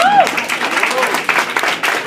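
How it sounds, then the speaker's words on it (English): Applause from a dinner crowd at a scholarship event, steady clapping filling the full short stretch at fairly loud level, with a speaking voice briefly audible at the start. "Big round of applause to the center."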